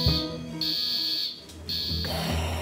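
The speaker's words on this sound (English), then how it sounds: "Can you pull the emergency buzzer, please?" A harsh electronic hospital emergency buzzer blares in bursts, cutting off briefly twice before resuming, loud and close.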